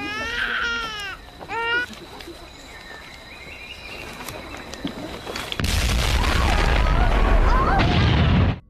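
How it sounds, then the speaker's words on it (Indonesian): A huge, deep volcanic explosion boom from a film about Krakatoa erupts after a few seconds of crying and commotion, then a loud rumbling roar fills the rest. "dikagetkan dengan suara ledakan yang begitu dahsyat"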